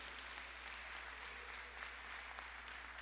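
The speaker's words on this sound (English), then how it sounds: "Give Amy Alley a round of applause" Applause at a governor's bill-signing ceremony for police reform legislation, steady dense clapping from a gathered audience over the full stretch, moderately distant and even, with a low hum underneath.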